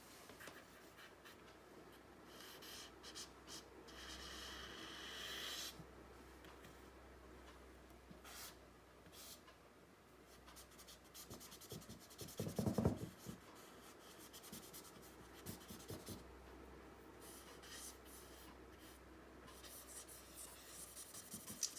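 A pencil scratches and rubs across paper while drawing a skull, faint soft strokes in irregular bursts with a slightly louder cluster midway.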